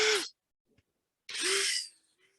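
A cordless drill bores a tap hole into a maple tree in two short bursts, its whine rising as the bit spins, separated by a brief quiet pause.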